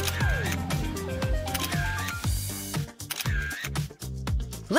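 A camera shutter clicks several times for a selfie amid cartoonish music and effects, sharp separate snaps over a busy playful backdrop.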